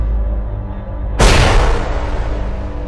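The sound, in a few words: loud explosion sound effect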